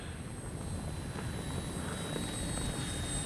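An FMS Ranger RC plane flies overhead, its motor a steady, continuous drone with a thin high whine running through it, moderately loud and unbroken, with no voices.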